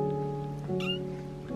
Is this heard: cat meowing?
yes